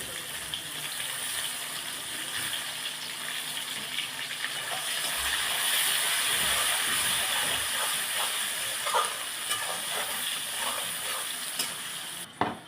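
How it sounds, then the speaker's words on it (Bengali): Chopped onions, dry red chillies and bay leaf fry in hot oil in a pan, a steady close sizzle and hiss with occasional scraping stirs and a clatter at the end. "পেঁয়াজটা আমার লাল লাল করে ভাজা হয়ে গেছে"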